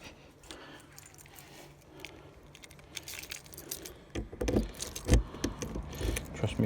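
Keys jangle and clink close by while someone fumbles to unlock a gas locker on a Ford Rollerteam Granduca caravan, quiet at first and then rattling louder and busier toward the end.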